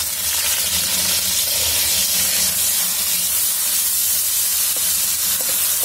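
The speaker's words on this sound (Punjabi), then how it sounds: "ਪਿਆਜ਼ ਨੂੰ ਆਪਾਂ ਉਦੋਂ ਤੱਕ ਭੁੰਨਣਾ ਆ ਜਦੋਂ ਤੱਕ ਸੁਨਹਿਰੇ ਰੰਗ ਦਾ ਨਹੀਂ ਹੋ ਜਾਂਦਾ।" Crushed onion and cumin seeds frying in oil in a pan, a steady loud hiss and sizzle that runs without a break, with a few faint stirring clicks near the end and no voices.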